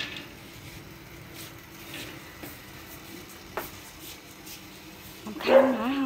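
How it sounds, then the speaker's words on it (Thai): A dog at a house door is mostly faint and distant at first, then gives a sudden loud, close burst of yelping barks near the end. "รำคาญหมาเห่าค่ะ"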